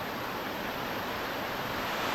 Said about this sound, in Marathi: पाणी आहे ना नदीला भरपूरच आहे